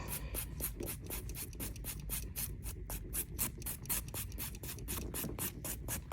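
Nail file rasping across a fingernail in quick repeated one-direction strokes, a steady scratchy rhythm of short close strokes at low volume.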